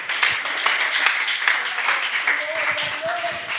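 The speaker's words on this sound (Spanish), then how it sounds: "En un aplauso al Rey de la Gloria" Congregation applauding for the King of Glory at an evangelical church service, steady dense clapping throughout with a voice and sustained tones running over it.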